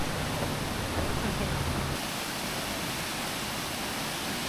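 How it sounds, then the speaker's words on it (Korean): Broad, steady roar of a waterfall beside a stone-stepped hiking trail on Hengshan mountain in China, continuous, full-bodied rushing noise that drops slightly in low rumble partway through, with no voices. "중간에 이렇게 간간해 보이는 폭포들도 있습니다."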